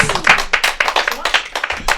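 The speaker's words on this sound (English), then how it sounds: "everybody give him a round of applause" Audience clapping at a live comedy show, a scattering of sharp, uneven hand claps close by, mixed with a voice talking loudly over them.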